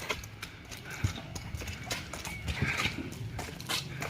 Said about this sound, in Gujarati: ત્યાં ઘોડી છે